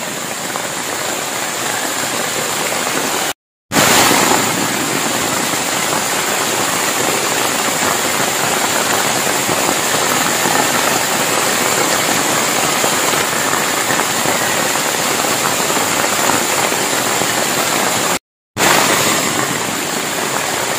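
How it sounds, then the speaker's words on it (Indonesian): Heavy downpour on a half-roofed camping shelter being built in dense jungle, a loud, dense, unbroken hiss of rain with two brief full dropouts. "pondok kita belum selesai udah diguyur hujan ya nih"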